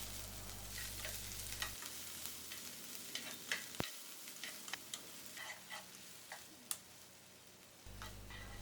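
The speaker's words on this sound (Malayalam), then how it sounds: "400 ഗ്രാം സവാള മുഴുവനായിട്ടും ആ പാനിലേക്ക് ഇട്ടിട്ട് ജസ്റ്റ് ഒന്ന് വാട്ടിയെടുക്കണം." Roughly 400 g of onions softening in a pan for butter chicken, giving a soft, steady sizzle with occasional stirring clicks and scrapes, fairly quiet and close, with no voices.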